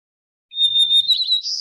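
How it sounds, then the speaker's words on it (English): A white-crowned sparrow sings one short, simple song of clear whistled notes followed by a buzzy trill, loud and close against a silent background. "So here's a white-crowned sparrow singing."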